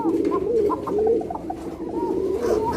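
White Arabian coca pigeon cooing close by, a run of soft repeated rolling coos with a steady murmur of other birds behind.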